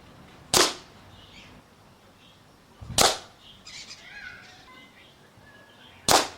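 An air rifle fires pellets into a Birchwood Casey Shoot-N-C target in a penetration test. Three sharp, close reports come about three seconds apart, with faint chirps in the quiet gaps between them.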